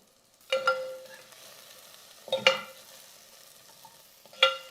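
Moringa drumstick pieces go into a hot pan in three separate clattering bursts, each followed by a short sizzle that fades to quiet frying between them.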